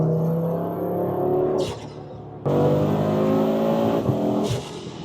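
Audi RS3 fitted with an aftermarket intake and 4-inch inlet pulls hard through the gears with a loud, rising engine note, briefly dropping at a shift before surging again, close and clear with no talking.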